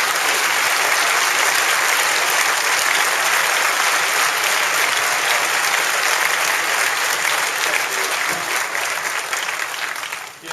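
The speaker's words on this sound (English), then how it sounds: "I'd like to give him a round of applause." A large audience applauds as Intel's CEO is welcomed on stage at the 2008 Macworld Conference & Expo keynote, in a dense, continuous roar of clapping that tapers off at the very end.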